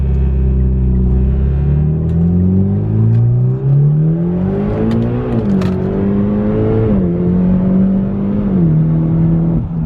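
A straight-piped Mitsubishi Evo 10 MR pulls hard under acceleration, its loud, raw exhaust drone climbing steadily in pitch and briefly dipping at each shift, close and continuous with no talking.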